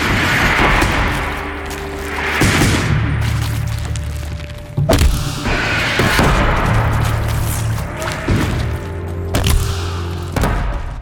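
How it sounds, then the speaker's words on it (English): Repeated bomb explosions in the video game Horizon Zero Dawn: heavy booms and thuds landing every few seconds amid a rumbling game soundscape, loud and close. "We gotta bomb them."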